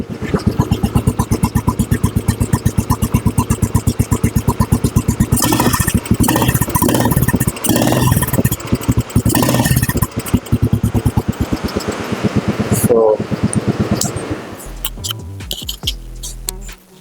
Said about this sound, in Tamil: பீட் செம்மையாக இருக்குல்ல ஆக்சுவலி பழைய வண்டியில் மட்டும்தான் இந்த பீட்ஸ் இப்போ வருது